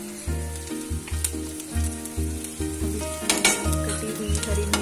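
Curry masala sautéing for a spicy pakoda curry in a pan, with a steady sizzle and stirring scrapes heard close under loud music playing throughout.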